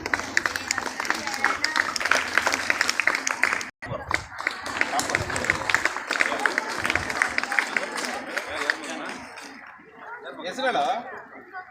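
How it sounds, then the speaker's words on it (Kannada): Audience applause at a Karnataka public school function, loud sustained clapping from a crowd with a brief cut partway through, then tapering off near the end. "ಚಪ್ಪಾಳೆ ಬರೀರಪ್ಪ."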